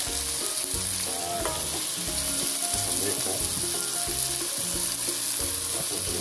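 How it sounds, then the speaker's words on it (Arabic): Pineapple caramelizing in a pan with chicken in a pineapple and soy sauce gives off a steady, continuous sizzle that runs the whole time, with music playing underneath. "ها الأناناس ديالنا أو البينيا يتكراميليزات"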